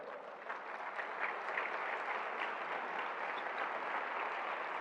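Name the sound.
congregation applauding for the Lord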